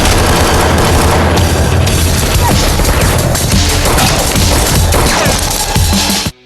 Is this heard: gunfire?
yes